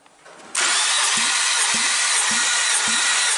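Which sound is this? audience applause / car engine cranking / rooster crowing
car engine cranking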